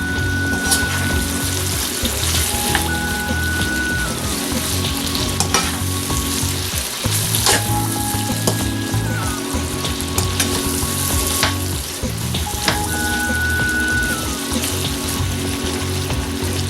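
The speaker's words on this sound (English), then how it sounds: "saute, cook everything down" Peppered steak sautéing in a pan, a steady, close sizzle and crackle of frying throughout, with occasional stirring clatter and faint beeps of kitchen equipment in the background.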